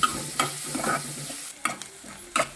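Onions being stirred in hot oil in a kadhai for a Kokani-style cashew curry, with soft sizzling under a few sharp scraping clinks of a spoon against the pan.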